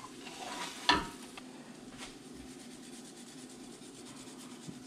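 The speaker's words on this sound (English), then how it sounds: "So that's why I like to cook the eggs first." Eggs frying in a pan as the first step of fried rice give a steady, moderately close sizzle, with a sharp clatter of a utensil near the start and light scraping and stirring throughout.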